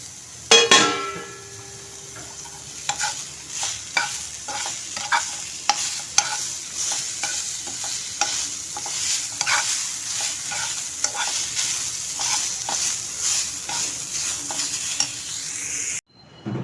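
Onion, chillies and coriander seeds being dry-roasted in a pan for a Kolhapuri masala, with steady stirring scrapes and a light continuous sizzle throughout, close up and with no talking.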